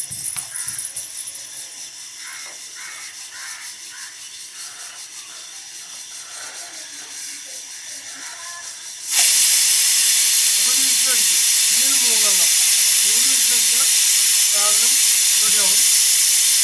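A pressure cooker whistles as it vents steam while jackfruit cooks, erupting partway through into a loud, sustained hiss that drowns out the quieter kitchen sounds before it, with short tonal chirps riding over the rushing steam.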